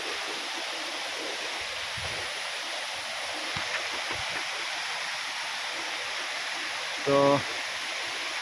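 A distant waterfall and a river flowing from above make a steady, broad rush of water that holds without a break, with a brief spoken word near the end.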